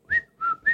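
Someone whistles three short clear notes in quick succession, close and fairly loud with brief gaps between them and no talk.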